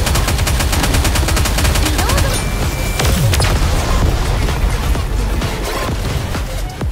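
Volley of gunfire in the video game Nikke: Goddess of Victory: a dense rapid burst of shots gives way to heavy booming impacts and scattered blasts, loud and close throughout.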